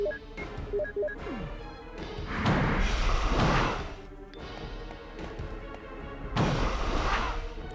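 Gunfire in the video game Resident Evil Director's Cut, several heavy booming shots with ringing decays spread over a few seconds, loud and close, among smaller game sounds and tones.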